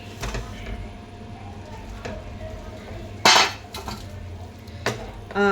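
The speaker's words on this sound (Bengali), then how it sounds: "আলুগুলো আমার স্টিলের বাটিতে রাখা ছিল, সো সেই জন্য আমার এখানে আওয়াজ হয়েছে" Fried potatoes tipped from a steel bowl into a pan, giving a few sharp metallic clanks and scrapes over a low background hum.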